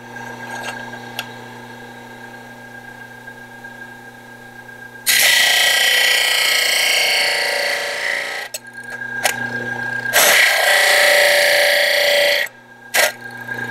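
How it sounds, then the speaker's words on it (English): Aluminum angle being sanded on a power sander, a loud harsh abrasive roar in two long bursts of several seconds each, set over a steady machine hum with a few short ticks between. "square that off, and sand it down"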